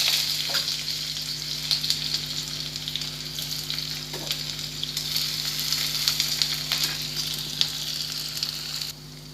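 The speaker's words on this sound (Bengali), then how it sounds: "তেলটা আমার গরম হয়ে গেছে, এখন আমি লঙ্কা দিয়ে দেব" Chilies and chopped onion frying in hot oil for a Maggi noodle breakfast: a steady, bright crackling sizzle throughout with occasional stirring clicks over a low constant hum.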